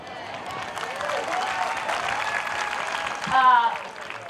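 A crowd at a pickleball clinic during the US Open Pickleball Championships claps and cheers steadily, swelling briefly near the end, with a voice heard over the applause.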